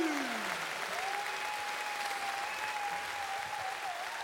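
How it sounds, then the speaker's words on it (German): Dense, steady applause from a TV studio audience at an outdoor German entertainment show, loud and continuous throughout, with a tonal whistle or sung note riding above it. "Applaus für Cristiano Ronaldo."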